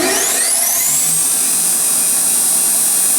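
Wheel spindle of an Okamoto IGM-2M internal grinding machine spins up with a rising high-pitched whine that settles into a loud, steady hiss and hum, alone with no talk.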